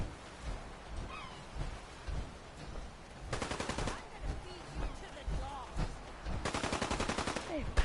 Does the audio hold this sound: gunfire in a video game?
yes